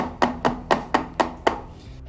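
Six sharp, evenly spaced taps of a cake tin filled with Bengali bhapa doi mixture, knocked against a hard surface, close and fairly faint in a quiet kitchen.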